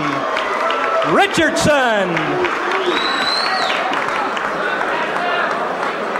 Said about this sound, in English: How about a round of applause for Fast Eddie Richardson?